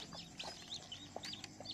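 A brooding hen on her eggs clucks softly in short repeated bursts, faint and close, with other chicken calls scattered in the background.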